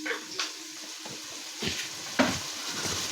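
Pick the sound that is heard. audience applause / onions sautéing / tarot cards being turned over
onions sautéing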